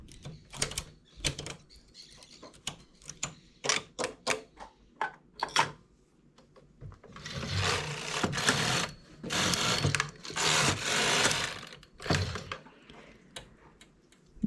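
A knitting machine carriage shaping a V-neck runs in clicking, rattling passes, short ticking bursts at first and then longer rushing sweeps across the bed, close and fairly quiet with no talk.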